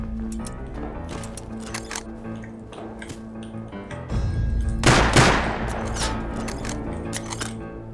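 Gunfire in the survival game Rust, a run of sharp cracking shots scattered across the moment, then a louder heavy burst and a lingering rumble near the end, with no talking.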